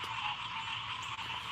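Frogs croaking at night, a dense, faint chorus of steady calls with no talking.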